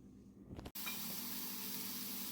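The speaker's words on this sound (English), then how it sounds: "hopefully you can hear me over the sizzling" After a brief clunk, food sizzles in a hot pan with a steady, fairly faint hiss and crackle that fills the rest of the moment, with no talk.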